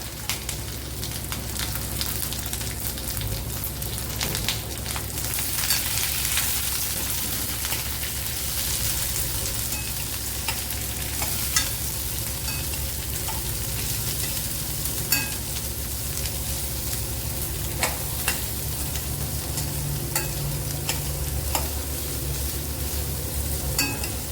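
Small onions and curry leaves fry in oil for a carrot dish, an even, close sizzle and crackle that holds steady for a long stretch, dotted with occasional sharp pops and stirring taps.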